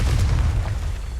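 Confringo blasting spell from Hogwarts Legacy going off as a deep, loud booming explosion with a heavy low rumble that fills the whole moment.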